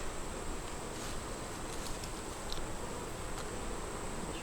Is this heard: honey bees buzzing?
yes